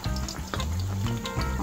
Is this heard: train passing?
no